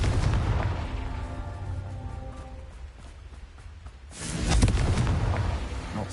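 The Confringo blasting spell explodes in Hogwarts Legacy: a deep booming blast that rumbles and fades, then a second loud burst erupts about four seconds in, with no voices during the blasts.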